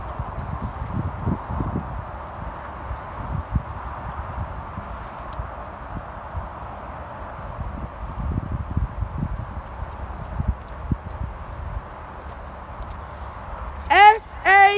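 During a dressage test, a horse's hooves strike the arena footing in a soft, regular rhythm at walk and then working trot. The footfalls stay fairly faint under light wind and rustling, and a brief sharp sound comes at the end.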